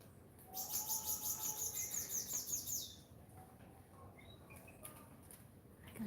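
Caribbean sparrows chirp in a rapid, high trill for a few seconds, then a handful of scattered faint chirps over soft outdoor hiss during rain.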